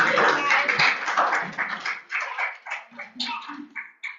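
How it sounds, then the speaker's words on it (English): An audience at a Troy Hill community meeting gives a round of applause, brisk clapping that thins out and trails off into a few scattered claps. "I think they deserve a round of applause."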